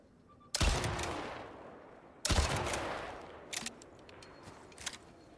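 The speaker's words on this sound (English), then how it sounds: "This gun is not very accurate, but with those exploding bullets, it's just amazing." Gunfire from an inaccurate gun firing exploding bullets in the video game Icarus, Maelstrom expedition: two loud, booming blasts a couple of seconds apart, each trailing a long rumbling decay, followed by fainter smaller pops, with no talk.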